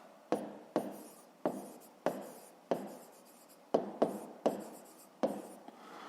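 Pen writing by hand on paper during a fifth-grade maths exercise: a series of about nine quick, scratchy strokes, each starting with a sharp touch and fading, close and quiet with no talking.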